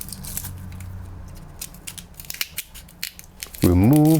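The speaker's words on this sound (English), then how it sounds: "I like to cut the onion in half." A knife cuts a peeled onion in half on a cutting board, giving a few crisp, close crunching snaps, followed at the end by a short voiced tone.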